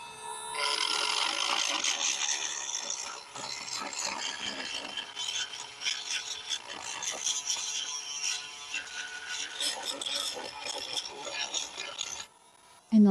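A Dremel rotary tool grinds on a bentwood rocking chair during recaning work, a close, continuous abrasive whirring and rasping that wavers in intensity for several seconds before stopping abruptly, with no speech over it.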